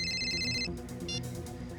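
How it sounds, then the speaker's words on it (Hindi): A mobile phone plays a short electronic ringtone, bright repeating tones that stop and return briefly, heard under a low background murmur. "क्यों फोन कर रहा है मुझे?"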